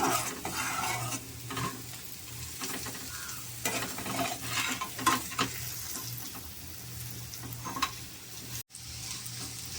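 Steady sizzling of bitter gourd and dried fish curry frying in a pan with curry leaves, with repeated scraping and stirring strokes close by; no talking.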